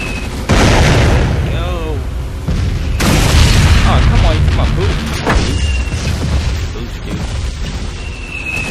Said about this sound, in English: Roadhog is about to blow